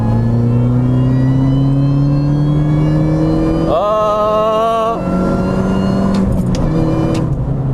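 A supercharged Mini pulling hard in third gear, engine drone rising through the revs with a sharp supercharger whine swelling in the middle before a shift, loud and in-cabin with no talking.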